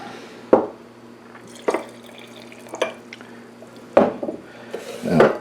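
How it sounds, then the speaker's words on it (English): Water poured onto flour in a glass mason jar for a sourdough starter, heard as a few separate clinks and splashes against the glass followed by a short burst of trickling liquid, close and clear without talk. "And we'll add the water to it."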